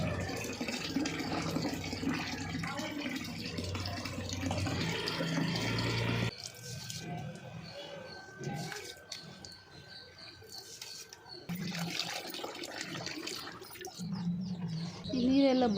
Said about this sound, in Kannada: ನೀರು ಬಿಟ್ಟಾಗ ರಾಗಿ ನೀರಲ್ಲಿ ಕಾಣಬೇಕು